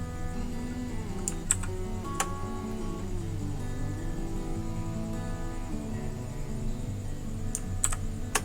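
Keys clacking on a Zebronics Max Pro gaming mechanical keyboard, a steady run of close, moderately loud presses with a few sharper clicks standing out, no talking.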